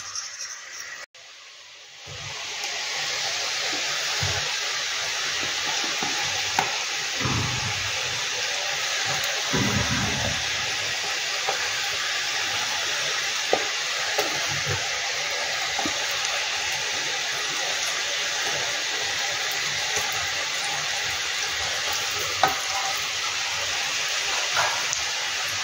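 Nimki, a maida-based snack, deep-frying in hot oil, a steady hissing bubble that starts after a brief quiet moment and carries on evenly with occasional soft clinks.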